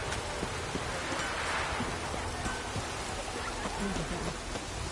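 Steady rain pours down in a video game, a dense hiss of drops spattering on surfaces with no voices.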